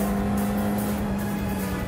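A McLaren Senna drives fast on a race track with a loud, steady engine drone that stays close and continuous throughout.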